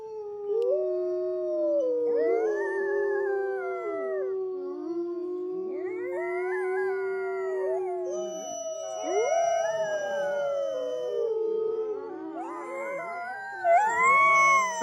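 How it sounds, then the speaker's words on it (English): A puppy lets out a drawn-out, wavering yawn-howl, long rising and falling whines that come close and clear with no talking over them, followed by a higher yelp at the end. "the little yawn howl"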